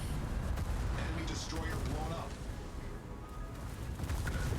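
Rumbling naval gunfire in World of Warships, including shots at the German Tier 10 battlecruiser Schlieffen, heavy booms and battle noise sitting under continuous talk.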